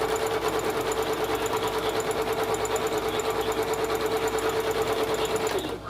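A sewing machine back stitches in a fast, even mechanical chatter, its needle rhythm steady and close for several seconds before stopping abruptly.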